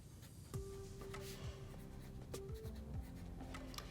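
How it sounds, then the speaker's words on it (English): A pen writing on tape stuck over paper, heard close up as a quiet, steady scratchy scrawl with small squeaky strokes throughout. "I'm writing on the tape so that I don't mess up my actual paper."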